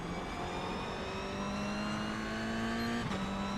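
A race car engine in iRacing drones at high revs with a steady, rising pitch, then a quick gear shift drops the tone briefly.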